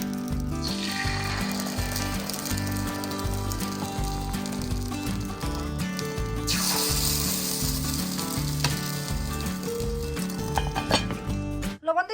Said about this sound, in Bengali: চিতল পিঠা বানানোর কড়াইতে চিতল পিঠা বানানো হবে হালকা একটু তেল লাগিয়ে